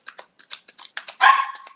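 A dog barks several times in quick succession, short sharp yelps followed by a longer, louder bark near the end, close by with no talk over it.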